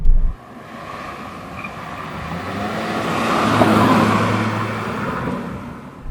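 Steady broadband road roar and engine hum inside a car cabin while driving, swelling gradually toward the middle and easing off near the end, with no voices.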